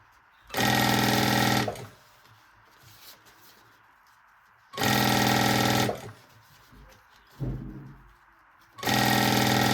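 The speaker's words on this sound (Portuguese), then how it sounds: "E agora a gente mantém a costura até o final." A sewing machine runs a backpack seam in three loud, steady bursts of rapid stitching, separated by quieter pauses with a brief handling bump between.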